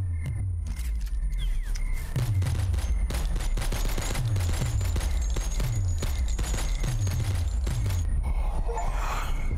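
Assault rifle fire from the horror game Unnatural Benighted, with loud, evenly spaced shots in a steady rhythm and a faint rattle between them.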